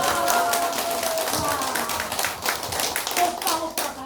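Audience clapping at a Korean laughter-therapy lecture, a steady patter of hand claps close by and continuous for about four seconds, with faint voices mixed underneath.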